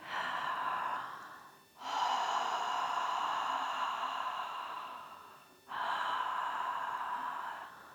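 Open-mouthed ujjayi yoga breathing, a steady ocean-like rushing breath, runs through three long, even breath cycles with brief dips between them, close and clear with no talking.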